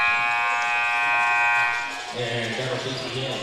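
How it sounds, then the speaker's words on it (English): A loud electronic buzzer blares steadily for about two seconds to end the first period at a school basketball game, then the gym crowd and an announcer's voice take over. "Let's see if the Mets can make it right here before the buzzer sounds"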